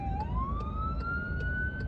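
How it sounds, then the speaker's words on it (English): An ambulance siren wails ahead of a car in traffic, its tone sweeping slowly upward and holding steady and loud, with faint periodic clicks over a low rumble of the car interior. "We got an ambulance in front of us."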